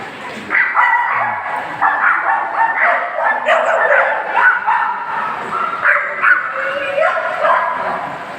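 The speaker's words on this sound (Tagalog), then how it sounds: "Dito pa-inject ka namin yung aming aso." A dog at a vaccination yelps, yips and whimpers almost nonstop at close range, high anxious cries rising and falling in quick bursts.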